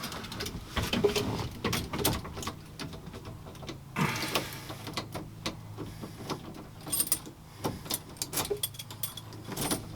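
Keys rattle and click faintly in the ignition of a 1969 Ford Capri, irregular small metallic jingles and scrapes heard close but quiet.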